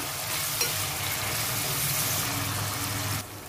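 Onion and finely chopped tomato sauté in a pan for a seafood curry, giving a steady close sizzle and light stirring that runs evenly throughout before dropping off near the end.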